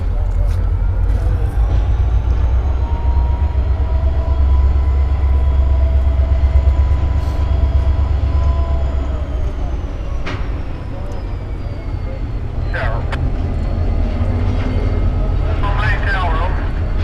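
An Amtrak train passes at Coffey's Cliff, its low steady rumble of wheels and engine filling the whole stretch, with a long horn tone and screechy squeals of wheels on rail rising near the end while voices on a scanner talk over it.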